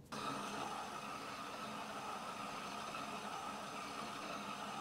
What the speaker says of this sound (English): As you can see, because the motor, there's a noise